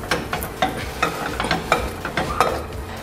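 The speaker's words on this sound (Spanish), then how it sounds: "con el machacador machacamos las papas que se van a estar impregnando naturalmente del tocino" Potatoes being mashed with a masher in a hot pan of bacon fat and butter: rhythmic, repeated squelching thumps over a steady sizzle, close and fairly loud.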